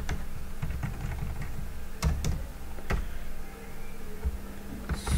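Keys clatter on a computer keyboard in an irregular run of taps with a few sharper clicks, close and moderately loud over a steady low hum, with no speech.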